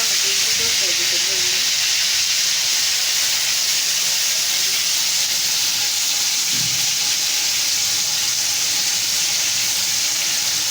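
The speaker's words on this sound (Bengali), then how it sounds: "দেখি মাছের পিসগুলারে ভাজবো" Pieces of loitta fish, coated in turmeric and chili, fry in oil with a loud, continuous sizzling hiss that holds steady throughout, with brief faint voice sounds near the start.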